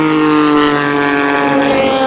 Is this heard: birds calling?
no